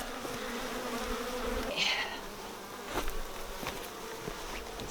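Honeybees hum steadily inside a nucleus hive, a constant close drone with individual bees buzzing past, plus a few faint knocks and shuffles against the box.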